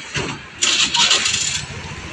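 A Sinar Jaya bus engine starts up for departure to Wonosobo, a brief close crank that catches into a rough, loud running note.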